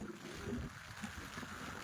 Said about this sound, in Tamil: காற்று கொடையை தூக்குற அளவுக்கு அடிக்குது